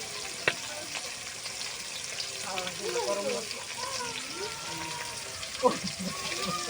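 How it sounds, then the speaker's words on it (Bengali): Fish frying in a pan in a home kitchen gives a steady, close sizzle and crackle, with a voice talking over it and a brief sharp pop near the end. "এই তো আপনার ভাবি মাছ ভাজা শুরু করে দিছে।"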